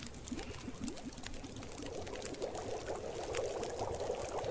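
Water simmering and bubbling in The Long Dark, a steady liquid burble with a pouring, trickling texture that holds at an even level throughout, close and continuous with no talk.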